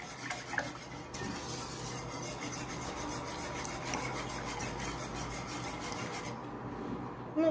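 Steady scraping and swishing of a utensil stirring an egg and milk mixture in a bowl, continuous and close, with no voices.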